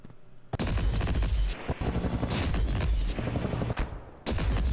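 A railgun fires in the video game Ravenfield amid a loud, dense barrage of battle gunfire. Sharp, heavy discharges break through the continuous roar, with brief drops between bursts.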